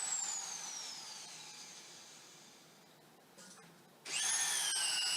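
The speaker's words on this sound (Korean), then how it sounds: "제일 처음 원점을 잡는 작업부터 시작해서 볼트들을 하나씩 조임 작업을 하겠습니다" A steel-structure bolt-tightening robot whines with a descending motor pitch that fades, then goes quiet before a second, louder high-pitched motor whine starts sharply and holds steady near the end.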